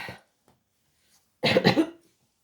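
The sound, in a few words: cough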